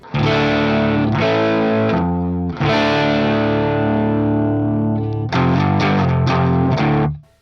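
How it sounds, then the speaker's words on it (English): Gretsch G2655 electric guitar with Filtertron-style humbuckers, played clean through a Marshall SV20H amp with slight breakup: loud sustained strummed chords ringing out, then a quicker run of repeated chord stabs at the end. "Today I'm playing my Gretsch G2655 with Filtertron style humbuckers in it."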